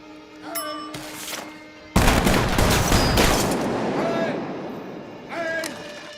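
Firing squad rifle volley in The Dark Knight: a sudden loud, sharp burst of gunfire rings out and decays with a long echoing tail, framed by brief shouted commands before and after.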